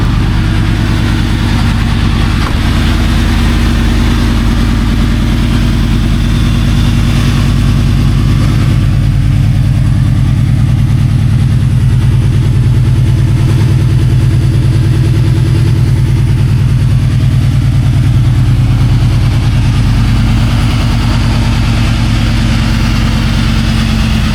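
A Ford Mustang that has been sitting idles after starting on the second try, a loud, close, steady low rumble with a faint rhythmic pulse that holds evenly throughout.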